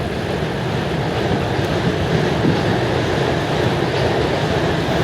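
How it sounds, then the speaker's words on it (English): A loud, steady roar and rumble of a westbound Toronto subway train running along the tracks near the Bloor Viaduct, broadband and unbroken throughout, heard from close by. "And we caught a westbound train."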